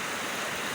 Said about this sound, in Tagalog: Ngayon talaga lumakas ang ulan at saka hangin